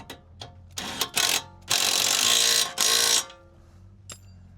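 Metallic ratcheting from a wrench refitting the sway bar bolt on a Volvo V40 Turbo during a coilover install: short clicky bursts, then two longer steady runs of rapid ratchet clicks, close and fairly loud.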